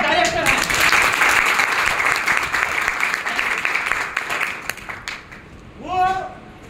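Loud, sustained applause from an audience at a trading company meeting, dense clapping filling the room for about five seconds before fading, followed by a voice speaking.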